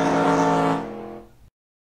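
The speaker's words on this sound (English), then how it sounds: "And Lightning McQueen doing his burnout." A toy race car's engine sound effect drones with a sustained revving tone during a stop-motion Lightning McQueen burnout, loud at first and then fading over about a second before cutting to silence.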